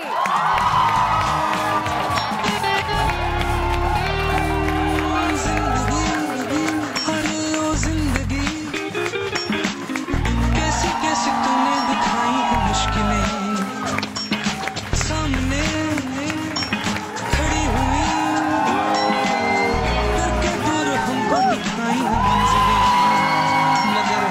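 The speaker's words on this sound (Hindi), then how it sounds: "आप सबकी भरपूर तालियों में मैं चाहूँगी कि हम उनके लिए सब खड़े होकर इस्तकबाल करें। हमजा अली अब्बासी।" A studio audience on a Pakistani morning talk show claps and cheers steadily and loudly, a dense, continuous wash of applause with whoops rising and falling throughout.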